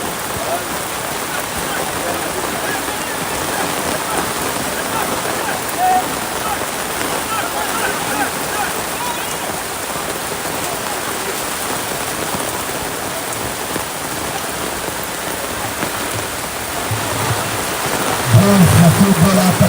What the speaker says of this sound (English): The rain is falling everywhere now.